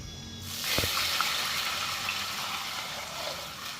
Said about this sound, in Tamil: 1/2 லிட்டர் தண்ணி ஊற்றிக்கிறேன்